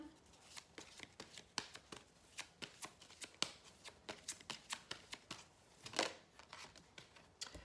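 Tarot cards being shuffled by hand in a quiet room, a rapid series of crisp riffling flicks and slaps, close and clear with no talking.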